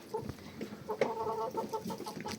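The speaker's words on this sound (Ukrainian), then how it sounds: "Це мої півень воду п'є, а другий он сховався за білою куркою" A rooster drinks water among hens on a backyard farm, giving a run of throaty clucks and short calls over a busy outdoor background of other fowl.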